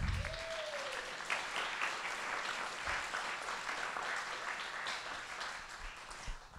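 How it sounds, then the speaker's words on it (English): An audience at a neighborhood town hall meeting applauds steadily from start to finish, with dense clapping of even loudness from a crowd in an indoor hall. "So now let's give them all a big round of applause."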